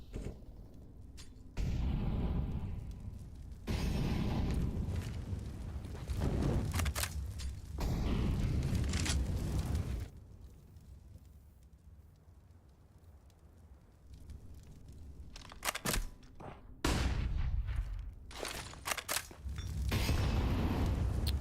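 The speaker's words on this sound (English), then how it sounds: "Nade to JT" Grenade blasts and bursts of gunfire from a professional Counter-Strike match play in heavy, booming waves with quiet gaps between them, the loudest explosions and shots arriving in several separate clusters.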